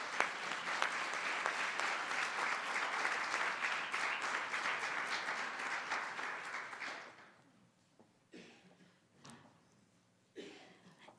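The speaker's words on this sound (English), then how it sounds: "Let's give them a round of applause." An award ceremony audience claps in a full, sustained round of applause that stops abruptly after about seven seconds, followed by a few scattered claps and faint room noise.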